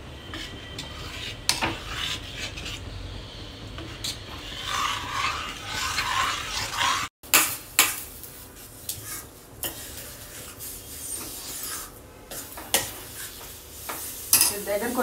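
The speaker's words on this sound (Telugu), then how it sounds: "దీన్ని కలుపుతూ ఉండాలి దగ్గర పడేదాకా." A thickening buttermilk batter is stirred in a pot with a spoon, scraping and rubbing against the metal in steady strokes with a brief gap midway, close and fairly loud with faint sizzling underneath.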